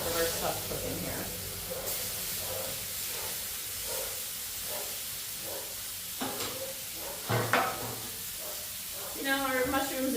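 Chicken and vegetables sizzling on a grill, a steady hissing sizzle with periodic scraping and clanks of food being moved, and a voice briefly talking near the end.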